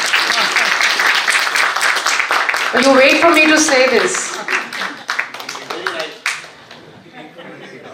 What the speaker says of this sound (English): I need a little more applause for our writer and our moderator.